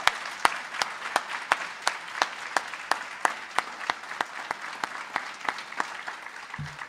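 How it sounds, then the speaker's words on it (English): An audience at an alumni hall of fame induction ceremony applauds the inductees, with sharp, evenly spaced claps from one nearby clapper standing out above steady crowd clapping for the whole stretch. "let's give all of our inductees one more round of applause"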